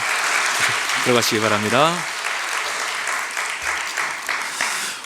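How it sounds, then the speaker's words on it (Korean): A church congregation claps in blessing at the close of a Sunday worship service, steady dense applause running the whole time, with someone speaking briefly over it near the start. "우리 축복의 박수 하도록 하겠습니다"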